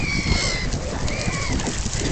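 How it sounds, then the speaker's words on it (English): Ducklings at a waterfowl park give thin, drawn-out high peeping calls over a busy outdoor background. "Ducklings over there by the orange tip."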